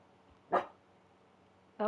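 A dog barks twice, short sharp woofs about a second apart, close by against a quiet background.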